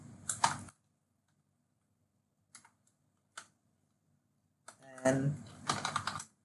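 Someone types hello world on a computer keyboard while coding a first Spring Boot application. Short bursts of quick key clicks are separated by silent pauses, and a voice speaks briefly near the end.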